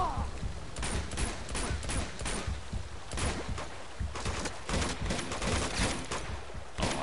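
Bursts of gunfire from the video game Uncharted 2: Among Thieves, rapid irregular volleys of shots crackling one after another at moderate loudness over a rumbling background.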